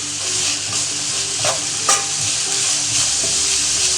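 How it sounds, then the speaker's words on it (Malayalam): Finely chopped onions sauté with salt in oil, a loud, continuous sizzle with occasional spatula scrapes and no voices. "സവാള പൊടിയായി അരിഞ്ഞതാണ് അതിട്ട് കൊടുത്തിട്ടുണ്ട്."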